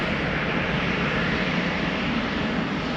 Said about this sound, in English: a Porsche Embraer 190 is lining up over here.